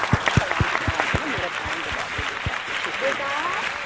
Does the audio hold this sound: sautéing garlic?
no